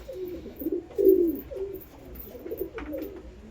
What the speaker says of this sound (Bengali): এটাও একটা আরসাদ পায়রার বাচ্চা, আর এটা আমার ফস্টারিং পেয়ার।